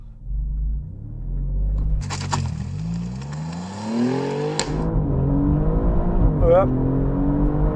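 An Alfa Romeo Giulia GTAm on Michelin Pilot Sport Cup 2 tyres launches hard, its engine rumble climbing in pitch as it accelerates while the tyres struggle for grip, with a brief scraping burst early on and a short spoken word over it.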